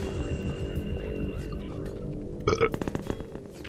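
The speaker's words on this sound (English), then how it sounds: "Just burp at him." A loud burp erupts midway, about a second long with a bubbly, croaking texture, set against the steady droning hum and ambient noise of a Half-Life 2 Episode 1 co-op game session.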